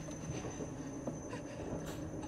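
A train in the video game Inside, a low steady rumble of rolling rail cars with faint clattering and a thin high whine, continuous and fairly distant, with no talking.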